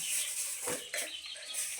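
A chicken clucks a few times close by, brief throaty calls over a faint hissy background.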